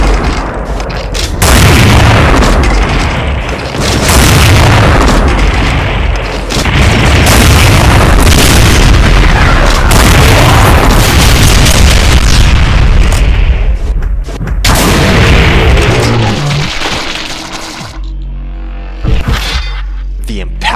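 Empowered BFG blasts in a Doom mod fight against Cyberdemons, a near-continuous barrage of loud booming explosions and bursts lasting many seconds, dense and overlapping, then dropping off abruptly near the end.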